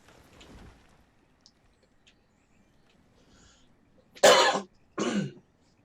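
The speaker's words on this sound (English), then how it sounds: "My apologies for that cough." Two loud, close coughs come in quick succession from one person after a few seconds of near silence with faint small noises.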